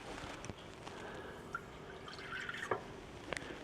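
A little water is poured into cornstarch in a kitchen, a faint quiet trickle with a few small drips and clinks over soft background noise.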